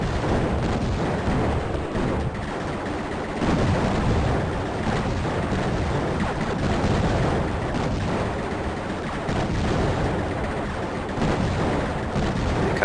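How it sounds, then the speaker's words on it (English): Continuous explosions and rapid gunfire from the shoot-'em-up video game Raptor, a dense, loud barrage of blasts and crackling shots with no gaps, no voices over it. "I'm sorry, you were watching things explode."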